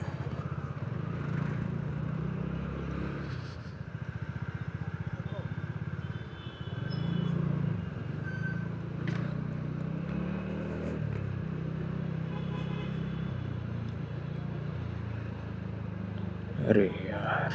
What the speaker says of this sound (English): that's why you have this traffic.